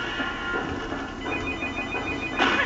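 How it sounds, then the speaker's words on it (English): A phone ringing during a Let's Play of Scooby-Doo Unmasked, a repeated electronic ring tone heard at moderate volume over game sound, with a louder burst near the end. "And that's my phone, and I'm not going to be answering that"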